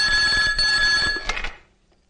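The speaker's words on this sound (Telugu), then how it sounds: "నర్సింగ్ గారికి ఫోన్ చేసి," A telephone rings loudly and close with a bright, sustained ring that cuts off abruptly about one and a half seconds in, leaving near silence.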